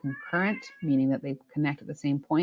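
A pet cat meows repeatedly, with short, clear, close cries alternating with a person talking nearby indoors.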